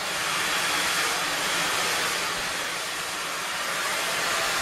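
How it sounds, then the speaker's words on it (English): Continuous loud roar of a hair dryer wrap-drying hair during a keratin express blowout at a salon, a steady, close airflow hiss with no speech over it. "So I just finished wrap drying her."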